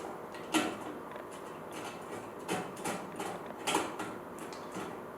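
Hand threading screws into a GMG Davy Crockett pellet grill during a control board replacement gives soft, close scraping and faint metallic ticks, a few slightly louder, over a steady background hiss.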